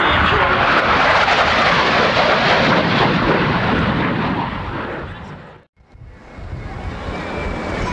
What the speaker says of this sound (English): now decelerating the Harrier